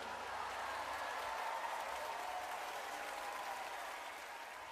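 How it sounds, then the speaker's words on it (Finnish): Concert audience applause at an anniversary show by a Finnish band, a dense, steady clapping wash from a large crowd that holds throughout and eases slightly at the very end. "Aplodit"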